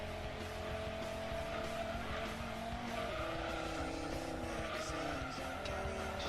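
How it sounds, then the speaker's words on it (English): Race car engine from Gran Turismo 2 drones continuously at high revs, with a buzzy, layered tone and tyre squeal mixed in, loud and constant throughout. "Still sounds more like a V10 than a V12."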